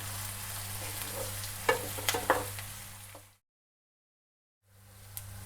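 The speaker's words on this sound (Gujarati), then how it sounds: "કાપેલા કાંદા એડ કરીશું। કાંદાને થોડી વાર ચડવા દઈશું।" Chopped onions frying in a pan, giving a steady close sizzle over a low hum, with a few sharp crackles and stirring clicks, then a sudden silence before the sizzle returns.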